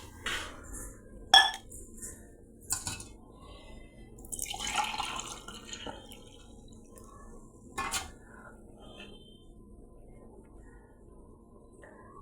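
Coconut milk is poured into a pot of rice for coconut rice, with faint dripping and trickling liquid and a few sharp clinks of a metal cup and utensils against the pot in a quiet kitchen.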